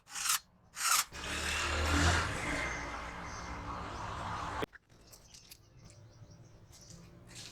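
A screwdriver or tool clicks and grinds while tightening neutral wires in a 63-amp house main electrical panel, with a few sharp scraping bursts and then quieter fiddling, close and moderately loud, no voices.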